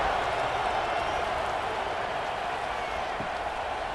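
A football stadium crowd at an AAF preseason game between the New Orleans Breakers and Las Vegas Outlaws roars in a steady, dense wash of cheering and applause throughout, with no breaks.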